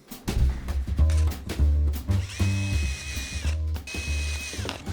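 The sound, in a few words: power drill making drainage holes in a planter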